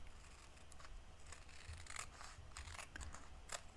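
Scissors snip through paper for a scrapbook page, a series of short crisp cuts with soft rustling, close and fairly quiet, with no voices.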